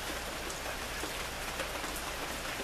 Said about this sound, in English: Rainy day. We don't get many of these in California.